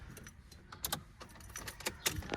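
A bunch of car keys jangling as a key is fitted into the ignition of a Nissan Sentra B14, bright metallic clinks and rattles in quick irregular bursts, close and clear, with no talking.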